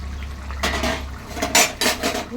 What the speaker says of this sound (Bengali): এবার আমি এর মধ্যে মাছ দিয়ে দিচ্ছি।